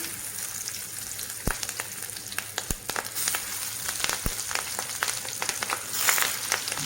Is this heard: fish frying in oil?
yes